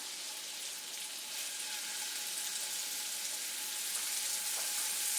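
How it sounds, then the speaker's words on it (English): Steady, bright sizzling of shrimp frying in butter in a hot pan, a continuous crackling hiss that grows slightly louder, with no talking. "You hear that nice sizzle?"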